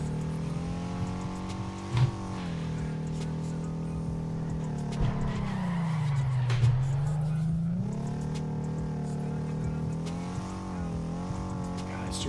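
Drifting car engine in the racing game Torque Drift 2, a steady loud revving drone with pitch sliding down and back up mid-slide, faint tire scrub underneath and a person talking over it.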